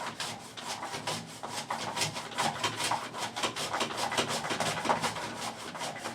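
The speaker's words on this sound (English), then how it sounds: "Just like this, and I'm making apple slices for Barb." Apple being sliced on a V-blade vegetable slicer, a rapid series of rhythmic scraping, rasping strokes repeating back and forth at close range, moderately quiet.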